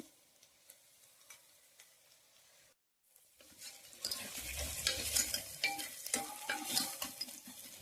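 Chicken curry is stirred and fried in a pan. Quiet scraping and stirring comes first, then after a brief silence a louder, steady sizzle with bursts of crackle, close up and without talk.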